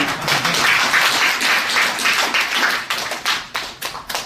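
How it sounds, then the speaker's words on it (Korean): An audience at an executive program graduation ceremony claps in a brisk, close burst after the director's address. The applause thins toward the end into a few scattered individual claps. "잘했다고 느끼시면 박수 한번."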